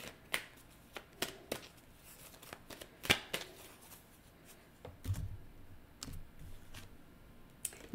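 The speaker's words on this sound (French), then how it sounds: "Je vais aller chercher ici une carte pouvoir de l'amour pour terminer." Oracle cards are shuffled and drawn close by in a quiet room, giving irregular soft flicks and sharp little card snaps spread across several seconds, with no talking.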